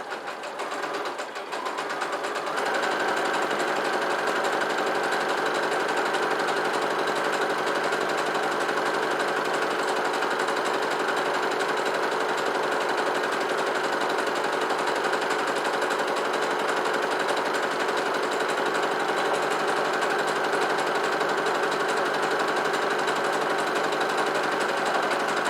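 Sewing machine running a long, steady stitch along the seam of a fabric bread basket, a close, continuous rapid mechanical chatter that starts after a brief pause and keeps going without a break.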